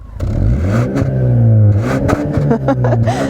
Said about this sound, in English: what does 290 horsepower sound like coming from new dual twin tip exhaust when in Sport Plus mode?